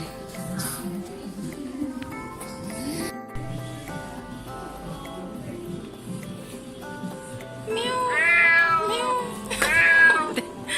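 A cat meows repeatedly, its cries growing louder and more drawn out toward the end, over a steady low background tone.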